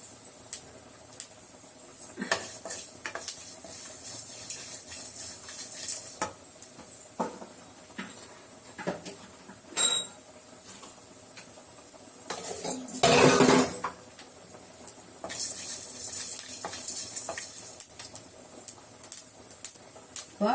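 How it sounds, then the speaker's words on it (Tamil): Whole fennel, cinnamon, cloves and a single cardamom pod are dry-roasted in a pan for a Diwali mutton curry, with scattered light metallic clinks and scrapes from stirring and a brief louder clatter midway. "சோம்பு பட்டை கிராம்பு ஒரே ஒரு ஏலக்காய் அதை போட்டு வறுத்துக்கணும்"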